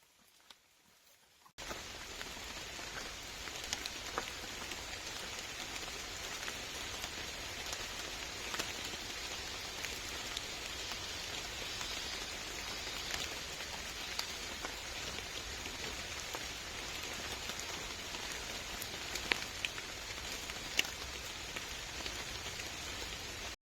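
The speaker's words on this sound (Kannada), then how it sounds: "ಈಗ ಮಳೆ ಬರ್ತಾ ಇದೆ, ಅದರಲ್ಲೇ ತೋಟಕ್ಕೆ ಬಂದಿದ್ದೀವಿ" Steady monsoon rain pours over a plantation in the Western Ghats, a dense, even hiss of drops on leaves and ground that begins abruptly after a brief quiet moment and continues unbroken.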